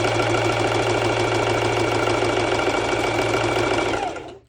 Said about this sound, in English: the idea will be exactly with the serger to pull the fabric towards you